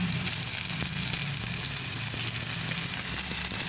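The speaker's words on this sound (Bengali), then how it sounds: "এবার আলুটা ভেজে নেব" Small cut potato pieces frying in hot oil, a dense continuous sizzle that stays loud and close throughout with no one speaking.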